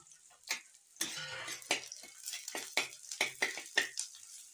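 Onion and chili fry in oil for a desi-style dish, a soft sizzle beneath repeated sharp scrapes and clinks of a spoon stirring against the pan.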